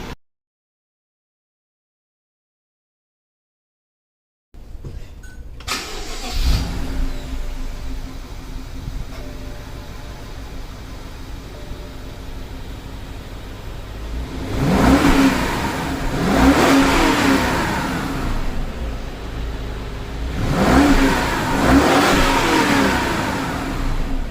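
A 2010 BMW 550i GT with a 4.4-litre twin-turbo N63 V8 and muffler delete idles with a loud, raspy exhaust tone, then revs hard twice in deep roaring bursts, close up and with no talking.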